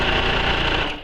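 A sewing machine stitches a quarter-inch seam through a quilt practice sandwich at stitch length 2, giving a brief, steady, close mechanical whir that fades slightly at the end.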